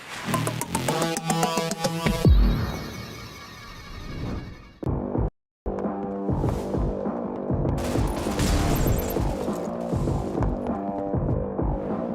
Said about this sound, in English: 2 kills moving in, and Star finds another nasty headshot on Baines